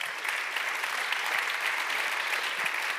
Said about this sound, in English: a warm applause to Saskia